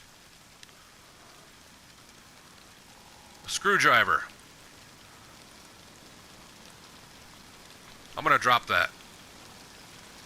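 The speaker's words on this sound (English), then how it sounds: "And it's raining again." Steady rain pattering continuously in the background of the video game DayZ, soft and even, while a person speaks briefly twice over it.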